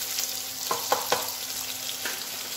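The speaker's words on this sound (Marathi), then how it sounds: "त्याच्यामध्ये आपण चॉप केलेला कांदा टाकूया।" Chopped onion and garlic frying in a pan, a steady soft sizzle with a few brief louder crackles and clinks as they are stirred.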